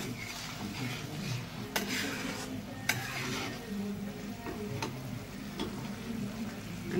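Fried fish goes into sour tamarind water in a pan, with quiet bubbling and soft stirring and a few sharp clinks of a utensil against the pan.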